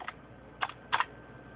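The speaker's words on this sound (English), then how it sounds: "Put a backspace and type in" Typing on a computer keyboard, a few quiet, sparse key clicks, some in quick pairs, in a quiet room.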